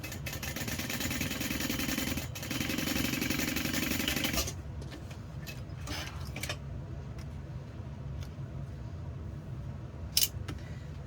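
A sewing machine stitches woven fabric, its motor holding a steady, close hum for about four seconds before stopping. Quieter handling clicks follow in the near silence.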